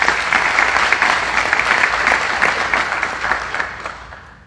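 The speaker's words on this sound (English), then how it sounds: "Let's give those young people a round of applause." A large audience applauds a youth chorus at a city State of the City address, dense sustained clapping from many people that fades gradually toward the close.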